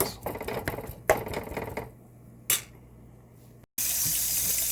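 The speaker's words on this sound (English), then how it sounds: "we're running hot water down the drain in order to ensure the drain does not clog" Hot water runs from a kitchen tap down a sink drain after grease is poured off cooked taco meat, a steady splashing flow with clattering of dishes early on, then a louder, even rush of water at the end.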